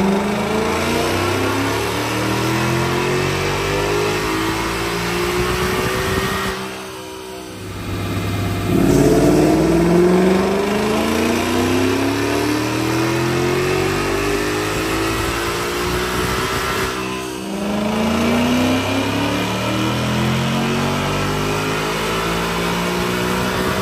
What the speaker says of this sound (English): We're going to work our way through low RPM, medium RPM to high RPM